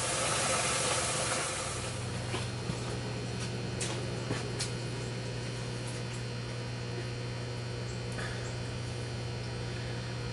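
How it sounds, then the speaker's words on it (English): Tower garden pump motors in a greenhouse give a steady low electrical hum that settles in after the first couple of seconds and drones on evenly, with faint scattered clicks above it. "I've unplugged my motors for my tower gardens. A little noisy as I'm trying to film."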